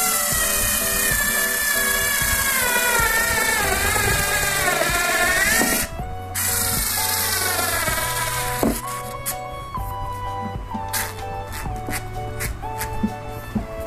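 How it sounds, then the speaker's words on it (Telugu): A Black & Decker battery screwdriver drives screws into an IKEA table. Its motor whines steadily and rises in pitch, then runs in shorter pulses, close and loud, with no talk. "నా దగ్గర బ్లాక్ అండ్ డెక్కర్ ది ఒకటి బ్యాటరీ తోని రన్ అయ్యేది స్క్రూ డ్రైవర్ సెట్ ఉంది, దీంతోని ఇప్పుడు ఫిట్ చేస్తున్నాను చూడండి"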